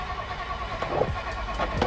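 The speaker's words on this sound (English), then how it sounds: "I'm gonna go ahead and start it up right now so you can hear how healthy this motor is." A 1960 Ford Thunderbird convertible engine cranks and catches under a steady low rumble, with a couple of brief mechanical thumps and surges near the end, close by and moderately loud.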